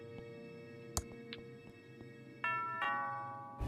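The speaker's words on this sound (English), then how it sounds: "Is that a doorbell?" A doorbell rings in the video game Thimbleweed Park, a two-tone chime with ringing tones that decay, heard over soft ticking and a light musical background.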